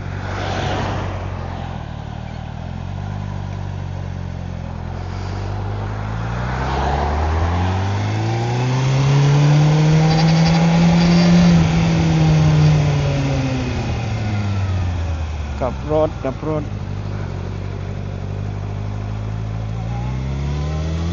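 A car engine rises and falls as it drives past, growing louder toward a close pass and then fading away, a smooth droning sweep over faint background noise with no talking.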